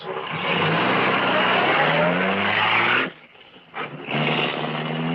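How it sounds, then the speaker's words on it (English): A powerful car engine roars loud and close with a rising, sustained rev as the car speeds away. The engine cuts out briefly, then roars back at the end. This is a sound effect from a 1943 radio drama. "The great car roared into life."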